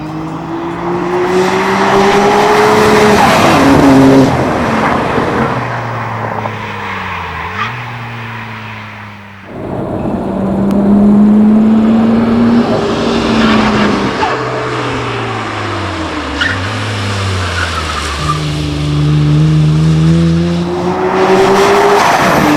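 A modified 500-horsepower Nissan GT-R races hard, its engine rising and falling through gear changes as tires squeal through corners, loud and close for the whole run.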